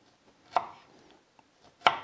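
A knife chops fennel on a cutting board in two sharp, close strikes spaced more than a second apart, each followed by a short ring, with near silence between them.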